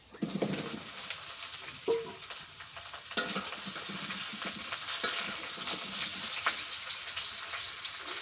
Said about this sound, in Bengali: বেগুন গুলিয়ে তেলানি নাড়াচাড়া করে কষান করি আগে